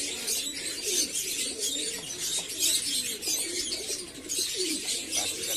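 A male pigeon of the Lalmohan type coos in low, rolling phrases that repeat throughout, close and fairly soft, with faint bird chirps in the background and no speech.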